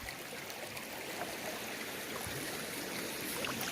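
Water flows steadily through a gold prospecting bazooka sluice set in an icy stream hole, a constant rushing wash with no voices, at a modest flow.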